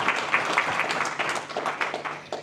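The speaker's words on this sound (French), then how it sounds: "je propose qu'on puisse l'applaudir avant de commencer la conférence" Applause from a museum lecture audience before a talk on the English army at Agincourt, a moderate crowd with distinct individual claps mixed into an even rhythm.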